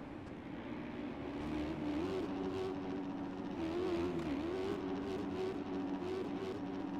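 The engine of a Husqvarna motocross bike in the video game MX Bikes holds a steady, buzzing drone whose pitch wavers slightly as the throttle changes.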